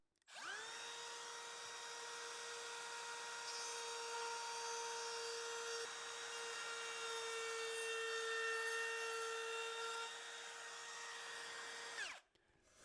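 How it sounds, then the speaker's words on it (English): Router with a flush cut bit trimming the edge of wood veneer on a box, a steady high-pitched whine running about twelve seconds before stopping abruptly. "I'll need to trim the edge using a flush cut bit in the router"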